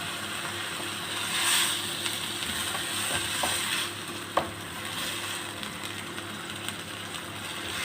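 Water hits stuffed bitter gourd masala frying in a pan. A soft, steady sizzle hisses throughout, with a few faint clicks and one sharp clack partway through.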